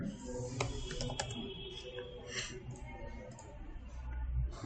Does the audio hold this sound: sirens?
no